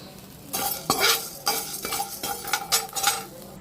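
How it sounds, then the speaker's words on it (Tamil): Dried red chillies dry-roasted in an empty kadai for paruppu podi, stirred with a metal spoon: a string of close scraping strokes and light clinks against the pan, irregular and lively, with a faint crackle underneath. "காஞ்ச மிளகாவை போட்டு வறுத்துடலாம்."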